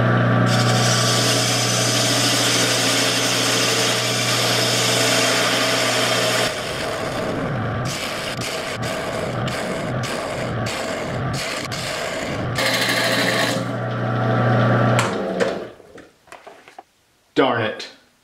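Walnut herringbone box being hollowed out with a power tool, a loud continuous motor whine with chattering cutting bursts and stops and starts, then brief sharp sounds as it winds down.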